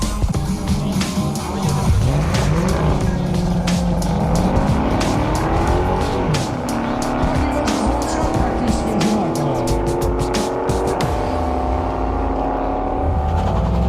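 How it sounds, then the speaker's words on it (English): Honda Prelude accelerating hard on a drag strip, engine revving up through several gear changes with loud, rising engine tones and crackling, close and continuous. "Прилюд выбирается вперед, и по ходу дорожка побеждает."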